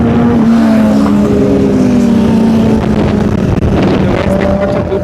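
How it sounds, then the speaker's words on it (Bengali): Two superbikes, a Kawasaki ZX-10R and a TVS Apache RTR, roar past together at a Kolkata superbike meetup, their engine notes loud and sustained with rising and falling pitch under heavy wind buffeting. "दोनों बाइक आ रहे हैं एक साथ।"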